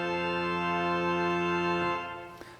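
Holtkamp pipe organ's choir division playing combined stops, a sustained full chord of steady harmonic tones that holds loud and even for about two seconds, then releases into a fading church reverberation.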